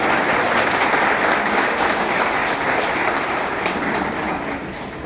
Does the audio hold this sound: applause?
yes